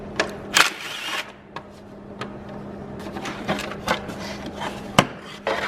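Engine covers are pried off a BMW E46 in a quiet workshop. Scattered plastic clicks, snaps and knocks come at uneven intervals over a faint steady hum.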